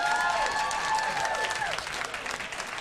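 An audience at a comedy talk show breaks into applause, a dense, steady patter of many hands heard at moderate distance with a voice carrying over it before it thins out.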